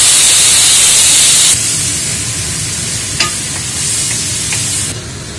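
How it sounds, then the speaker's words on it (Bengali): Fried spice paste of chilli powder and turmeric sizzles hard in a pan right after water is added, a loud, steady roar of frying that eases slightly partway through, with a few faint clinks. "মশলাটা ভাজা ভাজা হয়ে গেছে, জল দিলাম"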